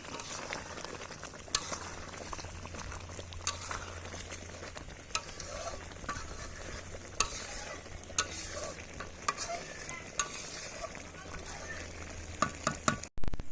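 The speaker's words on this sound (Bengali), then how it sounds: "চালটা ভাজার জন্য তেল দিয়ে দিলাম।" Oil sizzles steadily in a pan being heated for frying rice for chicken biryani, a close, even hiss broken by regular sharp clacks of a utensil against the pan.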